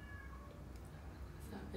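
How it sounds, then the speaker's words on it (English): Short soft meows from a cat somewhere in Mexico sit over a low, steady background hum. A brief brighter call comes near the end. No one speaks. "she's meowing."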